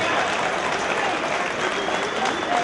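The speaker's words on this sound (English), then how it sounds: "please give these 2 mixed martial arts warriors a round of applause" Sustained crowd applause for two MMA fighters after three rounds in the XFO cage, a dense, steady wash of clapping and cheering from a large arena audience with no break.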